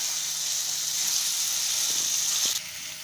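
Ground garlic and red chili paste frying in a pan for Mexican capsicum rice, giving a steady, moderately loud hiss with a few faint clinks near the end.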